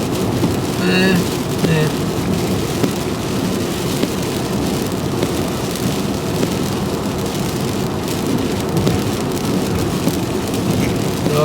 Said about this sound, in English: there's a band of rain sweeping round, and I might be getting it